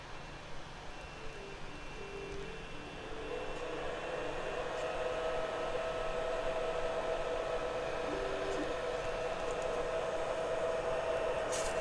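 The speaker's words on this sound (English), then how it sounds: "And now we're extruding 100 millimeters of yellow." An M3D Quad Fusion 3D printer extrudes 100 mm of yellow filament, giving a steady close whir of the feed motor with a faint rising tone, continuous and without talk.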